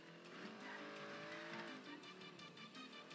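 An old car in GTA 5 drives hard with a continuous engine roar and tires squealing as it skids through a turn, loud and close throughout.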